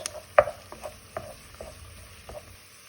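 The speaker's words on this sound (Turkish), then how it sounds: "Şimdi salçayla buluşturup karıştırıyoruz." Onions fried in oil are stirred together with tomato paste, giving a soft sizzle under a series of scraping, clacking spoon strokes, the first one the loudest, with no talking.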